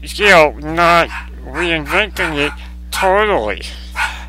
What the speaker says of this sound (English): Pardon my dog in the background.